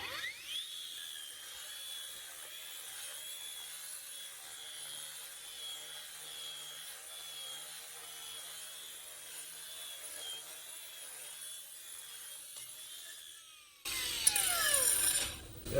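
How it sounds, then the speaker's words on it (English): A floor grinder works steadily at an epoxy floor coating, giving a continuous high whine with a faint rattle. Near the end it turns louder and harsher. "Okay, so now I'm just going to finish grinding this thing out."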